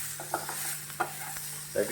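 Onion, green chili and tomato sauté in a pan for a Goan prawn chilly fry. The sizzle is soft and steady, with a few light scrapes and clicks from stirring close by.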